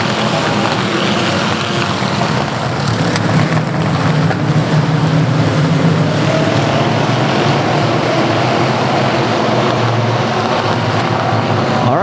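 A steady, loud roar of race car engines on the South Texas Speedway track, including E-Mod cars, fills the scene continuously, with a broad droning rumble and no pauses.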